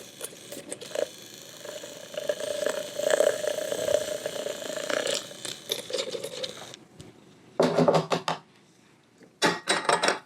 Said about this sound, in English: I'm going to mix it a little bit with the coffee just to make sure it gets incorporated